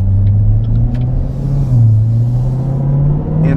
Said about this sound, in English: I hit the downshift paddle once, and then I hit it a second time and held it down